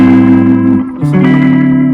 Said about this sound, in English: The reverb, it sounds unbelievable.